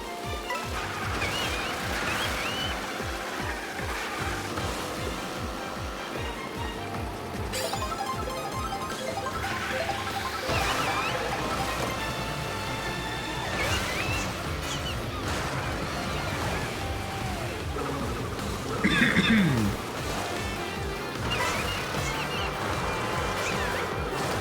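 Stormy Mario Kart World track on Switch 2 with crashing waves and rain under dense game music and engine whine, a continuous busy mix with occasional splashes and a sharper burst near the end.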